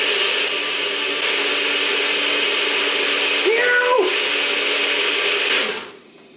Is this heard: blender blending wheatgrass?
yes